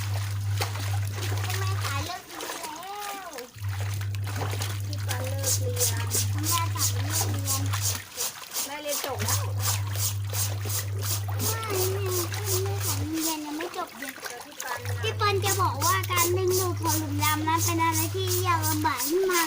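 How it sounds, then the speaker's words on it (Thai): A boy's dirty school clothes are washed by hand in water, with splashing and sloshing running under voices and a steady low hum. "ไม่ได้แช่ไว้ก่อนแล้วซักยากนิดนึงนะคะ"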